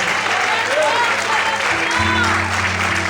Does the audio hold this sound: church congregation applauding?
yes